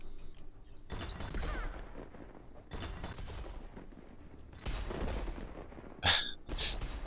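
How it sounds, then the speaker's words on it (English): Tank gunfire in the Worms W.M.D video game: several loud, booming bursts of shots and explosions in quick clusters, separated by short lulls, with no talking. "Shooting at the other tank."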